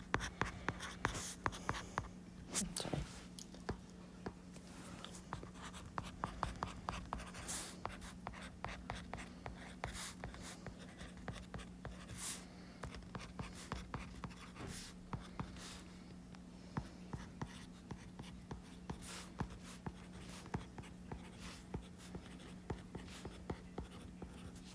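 A pen scratching steadily on paper while working through algebra, with quick irregular strokes and taps repeating close and quiet over a low steady hum.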